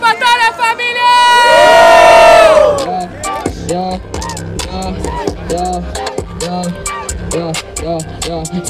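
A live crowd at a Brazilian freestyle rap battle erupts in loud cheering and whooping after a shout from the host, followed by rhythmic clapping and chanting in a rowdy, echoing space.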